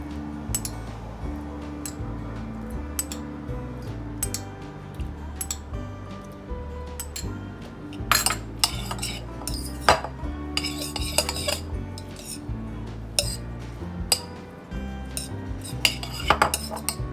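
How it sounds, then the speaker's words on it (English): Cutlery clinks and scrapes against a bowl while a vinaigrette for a vegan quinoa beet salad is mixed, irregular close metallic taps over steady background music. "here we're gonna just mix your vinaigrette before, because if not you're gonna get only oil, because it separates"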